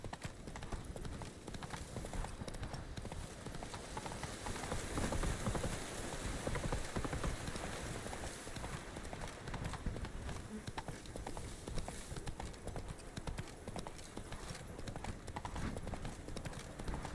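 Roach the horse gallops in The Witcher 3, a continuous rapid clip-clop of hooves pounding along at a steady pace, fairly faint and without speech.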